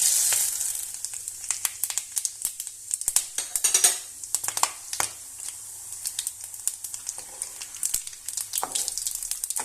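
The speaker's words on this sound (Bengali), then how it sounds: "এবার এই তেলের মধ্যেই আমি ফোড়নটা দিয়ে দিচ্ছি।" Whole spices for a phoron tempering crackle and sizzle in hot oil left from frying potatoes for a cauliflower dalna: a busy, close hiss with rapid sharp pops throughout, no talking.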